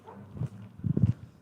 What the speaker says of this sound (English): that is a loud barking dog